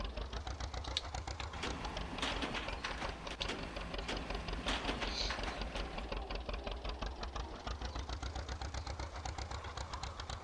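The engine of a John Deere Model A tractor in Farming Simulator 15 idles in a steady, rapid, even chugging rhythm, mechanical and unbroken for the whole stretch, moderately quiet with no voices.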